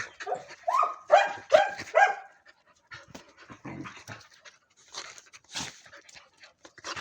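Dogs pant quickly and rhythmically, close by, with scuffling movement and a few brief whimpers in between, no talking.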